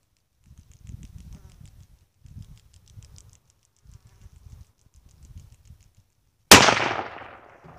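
A Mossberg MVP Patrol .308 rifle fires one loud, sharp shot near the end, its report ringing and fading over about a second, after quiet stretches of insect buzzing and light rustling.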